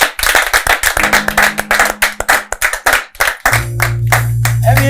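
A few people clap close by in sharp, distinct, uneven bursts, then a sustained hum and a voice take over near the end.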